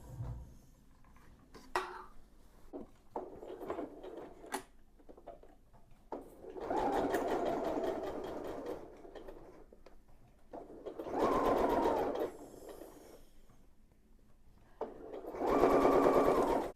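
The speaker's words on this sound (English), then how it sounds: "And sew them together." A sewing machine stitches quilted fabric pieces together for a large holiday bow. It runs in three separate bursts of a few seconds each, with quieter handling noises from the fabric in between.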